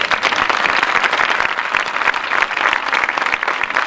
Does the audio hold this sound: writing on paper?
no